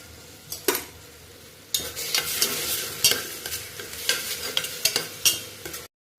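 Cumin seeds crackling as they fry in a pan for masale bhat, an energetic sizzle with brisk repeated scraping stirs of a spoon, close and fairly loud, no voices, ending abruptly.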